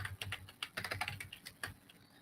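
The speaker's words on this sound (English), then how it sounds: "Oh, sorry, you're typing it up" Quiet, close typing on a computer keyboard, with irregular bursts of soft key clicks and short pauses between them, heard alone.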